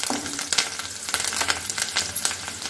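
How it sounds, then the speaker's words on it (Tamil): Curry leaves sauté in a hot pan while mutton curry is made, giving a steady close sizzle with small crackles and pops scattered across the span and no talking. "கருவேப்பிலை போட்டு அதுமையோட நல்லா வதக்கி விட்டுட்டு"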